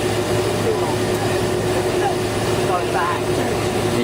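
Engines of a Virgin Atlantic Boeing 747-400 at London Gatwick give off a continuous, loud, even roar with a faint tonal whine and no breaks.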